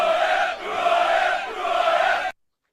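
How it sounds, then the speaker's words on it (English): A played crowd-cheering sound effect: a loud, dense roar of many voices that swells in waves for about two seconds, then cuts off abruptly into silence. "let's fire up the crowd to find out who we have today"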